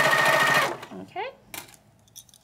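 A PFAFF PowerQuilter Q1600 sewing machine runs in a brief, loud, rapid stitching burst at the start, then stops, and quiet talk follows.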